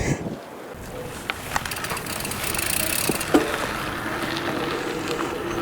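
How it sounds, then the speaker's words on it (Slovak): Strong wind blowing outdoors near Hlohovec, a continuous broad roar buffeting the microphone with gusty surges and rattling, no voices. "Dosť fúka, čo sa v podstate k tejto téme hodí."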